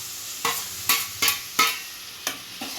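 Onions frying in a pan for tomato chitranna are stirred in about six separate scraping strokes, each a short burst of sizzle and spatula scrape with brief quiet gaps between.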